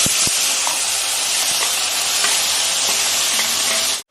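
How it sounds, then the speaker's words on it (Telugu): Tomatoes dropped into hot oil for a brinjal and ridge gourd tomato chutney, a loud continuous close sizzle and hiss with a few early clicks, cut off abruptly at the end. "టమాటాలు వేస్తున్నానండి ఆయిల్"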